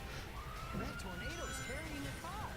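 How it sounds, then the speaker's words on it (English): Emergency sirens wailing outside a window, faint and distant with rising and falling sweeps, heard under game sounds from Sonic 06's Crisis City level. "there are sirens right outside my window"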